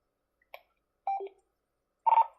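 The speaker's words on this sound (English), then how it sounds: "I've got to make a phone call to weather service real fast" Telephone keypad dialing tones placed for a call to the weather service from a storm-spotter station, three separate short beeps spaced apart, clear and close in a quiet room.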